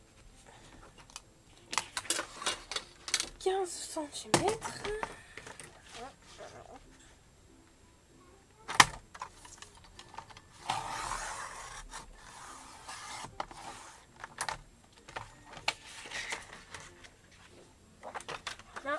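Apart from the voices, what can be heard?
cutting a sheet of paper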